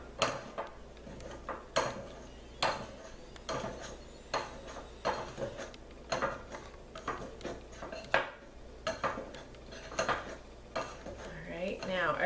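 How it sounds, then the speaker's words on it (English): A metal pastry blender rocks through shortening and flour in a mixing bowl for single-crust pie dough, giving repeated close clinks and scrapes against the bowl at a steady, unhurried rhythm, with no talking. "So I'm just rocking this back and forth, trying to get little pieces of shortening mixed in with the flour."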